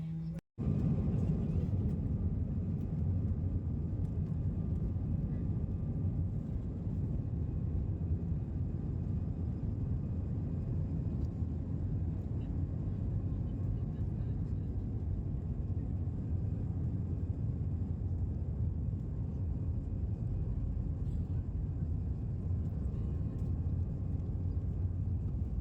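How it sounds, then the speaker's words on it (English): Inside an airliner cabin during the final moments of takeoff from Vienna, a steady, loud engine roar and low rumble fills the cabin continuously, with no talk. "And these are the final moments of taking off."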